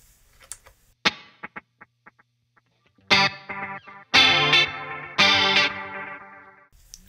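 Electric guitar through a Behringer UC200 Ultra Chorus pedal with stereo delay: a few soft plucked notes, then three loud strummed chords whose sound repeats and trails off in echoing decays, close, no talk.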